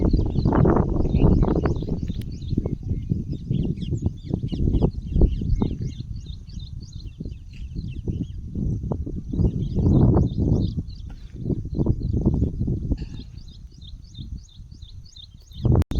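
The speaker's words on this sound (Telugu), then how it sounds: "అసలు పక్షులు ఎంత సౌండ్ చేస్తున్నాయో అసలు." Birds chirp and twitter continuously in village farmland, a steady stream of small high calls running above louder low rustling and thumping sounds nearby.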